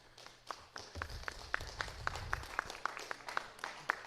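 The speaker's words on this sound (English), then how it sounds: "Round of applause for Anaïs." Faint, steady rhythmic clapping at a workshop presentation, a few hands beating an even pulse of sharp claps that continues alone without talk.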